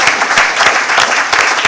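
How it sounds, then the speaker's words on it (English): An audience at a school board meeting applauds, producing steady, fairly loud crowd clapping that fills the short moment without talk. "Expected a little applause for that"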